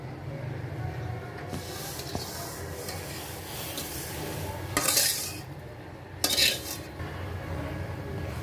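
Vermicelli is stirred into thin milk in a metal pot, with a steady scraping of a spoon against the pot and two brief, sharper clatters of utensil on metal near the end.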